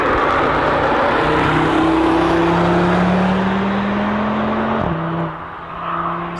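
A 2021/2022 Audi RS3 engine runs loud and close, a steady droning hum with slowly rising pitch, a brief dip near the end as revs settle.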